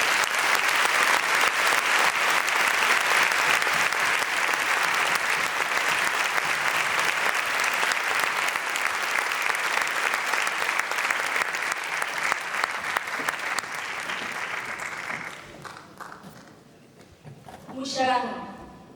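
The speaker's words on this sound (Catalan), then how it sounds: "Este aplaudiment és per a vosaltres." Long, warm applause for a concert band, the Camerata Aitana orchestra and a soprano at a Valencian cultural event, steady for about fifteen seconds, then dying away as a voice begins speaking.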